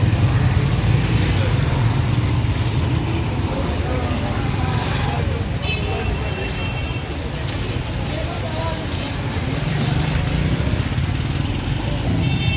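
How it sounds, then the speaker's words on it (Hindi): Traffic sits jammed in Qissa Khwani Bazaar, Peshawar: a continuous murmur of idling vehicles and road noise, with pigeons cooing and people talking nearby over the din. "यहाँ एक बार फिर ट्रैफिक जाम"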